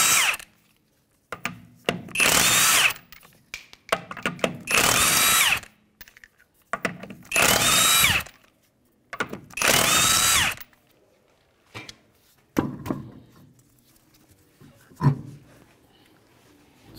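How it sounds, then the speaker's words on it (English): Impact wrench bursts loosening 21 mm lug nuts on the rear wheel of a 2015 Hyundai Sonata, five loud, close whirring runs of a second or so each, separated by short pauses, with clinks of nuts and tools afterward. "Take the lug nuts off now."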